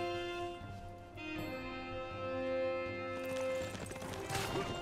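Barbarian horses gallop in Civilization 6, a light clip-clop of hooves over steady game music and ambience, moderately loud with a brief denser burst of activity near the end.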